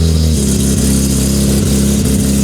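A supercharged car engine making over 1,000 horsepower, paired with an automatic transmission, rumbles loudly up close, its deep tone stepping up and down through a few quick revs with no talk over it.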